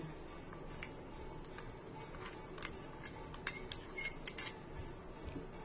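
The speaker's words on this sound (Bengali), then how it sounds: "এটাকে এবারে ভালো করে গুলে নেব যাতে কোনো লাম্পস না থাকে।" Custard powder being stirred into cold milk for a sewai pudding, a spoon clinking and scraping softly against the bowl in a steady rhythm of small taps.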